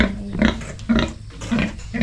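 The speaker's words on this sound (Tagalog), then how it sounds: "Lima na lang pala itong baboy." Close, loud pig grunts in three distinct bursts over a couple of seconds, from pigs kept on a provincial farm, with no talking.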